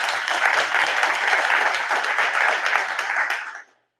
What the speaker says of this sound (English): So I'd really like to give them a round of applause.